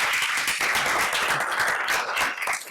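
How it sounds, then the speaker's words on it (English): Attendees at a school district board meeting give one more round of applause, close, dense clapping that stays loud and even before easing slightly at the end. "if we could have one more round of applause"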